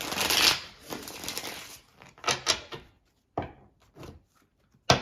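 Tarot cards being shuffled by hand, a close, fairly quiet series of papery riffles and taps in short irregular bursts separated by pauses.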